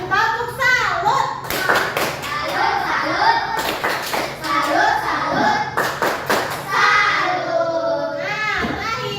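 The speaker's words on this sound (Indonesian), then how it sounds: "kalau gitu kita tepuk salut untuk kita semua ya" A primary school class claps the 'tepuk salut' routine together, sharp unison claps landing in rhythmic groups between loud chanted children's voices, close and lively in the classroom.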